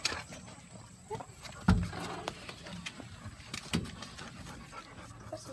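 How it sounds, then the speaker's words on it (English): Several puppies for sale pant quickly and softly up close, with scattered rustling and a couple of brief thumps as they move around. There is no talk. "Look at all these puppies."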